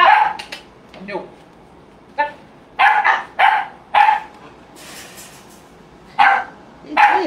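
A puppy indoors gives repeated short, loud barks and yips in uneven bursts, with people talking between and around them.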